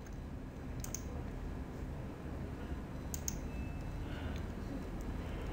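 A computer mouse clicks in ERP software, with two or three sharp, faint clicks spaced a few seconds apart over a quiet room background.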